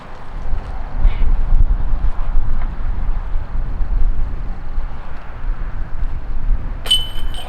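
Steady wind buffets the microphone outdoors during a disc golf putt, a continuous low rumble with no talking, ending in a brief sharper noise.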